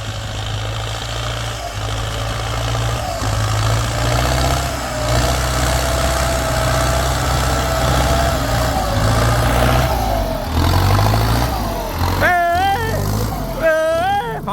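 A tractor's diesel engine chugs steadily at a low idle, rumbling close by, with people talking over it and a dog barking near the end.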